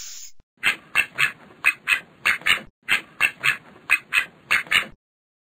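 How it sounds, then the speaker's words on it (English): Cartoon ducks quack in quick, evenly spaced bursts from the Starfall ABCs learning app, about a dozen clear, loud calls in two runs before stopping. "Ducks."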